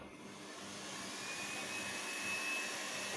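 A Riino R8 Cyclone cordless vacuum cleaner runs on its first speed, giving a steady, close, airy whine that swells slightly. No one speaks.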